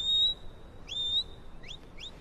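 A person whistles a few short, clear notes, a steady tone followed by quick rising slides, faint against a quiet indoor background with no talk.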